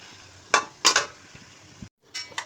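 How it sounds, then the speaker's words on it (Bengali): A fish head is stirred with oil and spices in a pan, giving a few loud, sharp scrapes and clatters in quick succession, then a short pause and another scrape, with no talking. "আমি একটু ভালো করে তেল টেল সব কিছু একটু নেড়ে চেড়ে দিই"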